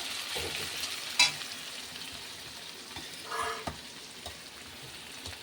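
Chicken bharta cooking on a stove, with a soft steady sizzle running throughout, a few faint stirring scrapes and clinks, and one brief sharper clink near the start.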